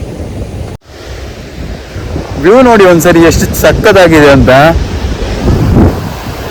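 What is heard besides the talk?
ocean waves at Kodi Kanya beach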